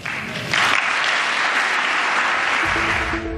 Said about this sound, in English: Clap, clap, clap, clap, clap in the room